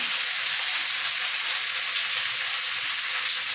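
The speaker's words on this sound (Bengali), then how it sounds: "এরপরে এটা আমি নাড়তে থাকবো যতক্ষণ না এটা আমার ভাজা হচ্ছে।" Spices with salt, turmeric, a little sugar and Kashmiri chilli powder fry and get stirred in a pan, giving a steady, close, loud sizzle with no break.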